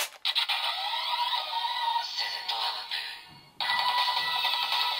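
A DX Boost Mark II Raise Buckle toy belt gives off bright electronic chiming, ringtone-like tones with a few clicks and a short dip before the sound resumes, close and fairly faint, with no talking.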